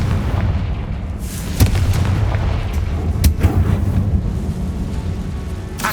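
Confringo blasting spell in the Hogwarts Legacy video game, a series of sharp explosive bursts and booms over a rumbling game ambience, with two strong hits standing out, no talking.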